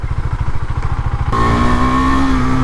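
A 2023 KTM Duke 390 motorcycle, in Liquid Metal finish, runs on the road with a steady, pulsing engine note that shifts to a higher, rising drone partway through, loud and close with no talk.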